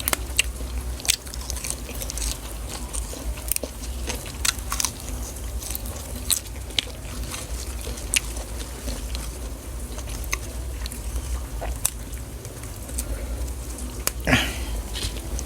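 Cooked Thai beef larb, a roasted-rice koi, is chewed close to the mic with wet, crunchy bites and small clicks repeating steadily over a quiet background, with one louder crunch near the end.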